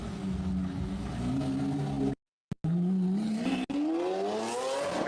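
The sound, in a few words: Lamborghini car engine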